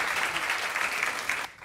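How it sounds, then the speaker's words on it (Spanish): A short burst of dense applause from an audience fills the moment evenly, then cuts off abruptly near the end. "fuerte el aplauso a Catherine"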